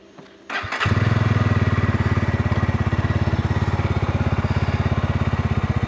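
A BSA Bantam 350 motorcycle starts up after a brief quiet moment, then its single engine pulses steadily and loudly up close with a fast, even rhythm, no talking over it.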